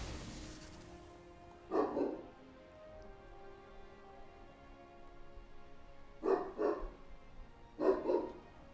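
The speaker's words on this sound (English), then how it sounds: "my dog is going nuts" A dog barks in short bursts at a distance, a single bark then two quick double-barks spaced apart, fairly faint against a quiet indoor room.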